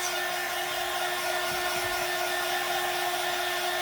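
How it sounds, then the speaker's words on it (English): A hair dryer blows steadily on a battery-operated candle with a constant whirring hum and airy hiss, close and unbroken for the few seconds. "Now we'll just gingerly hit this with the dryer to set it."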